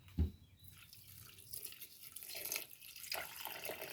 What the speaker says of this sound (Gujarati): થોડું પાણી નાખી દઉં